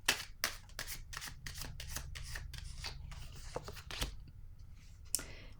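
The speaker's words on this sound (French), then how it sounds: "Je vais piger une autre carte sur la prison." Playing cards are handled close up as a card is drawn from the deck, giving a quick run of crisp, quiet flicks and papery rustles that end in a couple of sharper snaps.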